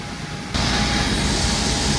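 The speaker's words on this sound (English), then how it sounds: "That's the hoover sucking it all out." A hoover kicks on abruptly and settles into a loud, steady roar as it sucks weeds and debris out of beans during cleaning.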